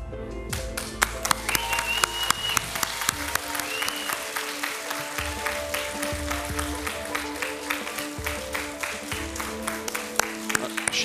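Audience at a hypnosis stage show applauding, sustained dense clapping from a crowd, steady and loud throughout, with someone speaking over it.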